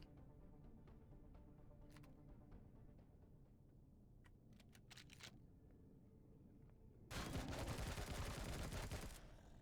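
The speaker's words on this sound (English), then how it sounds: "Is there somebody behind me who's firing at me?" Enemy gunfire in the sci-fi survival game Empyrion: Reforged Eden 2, a dense burst of rapid shots erupting for about two seconds over a low ambient game rumble, with scattered faint clicks before it.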